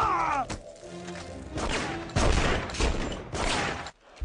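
Gunfire in The Punisher, a third-person run-and-gun action game, comes as repeated loud blasts and bursts across the clip, mixed with game effects and a brief groaning voice.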